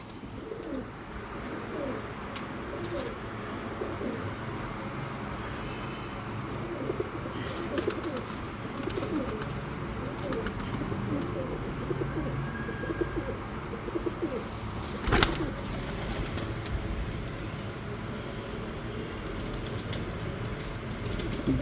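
Female breeder pigeons coo in a loft, a continuous low murmuring with steady background noise and a louder bump midway, no talk over it.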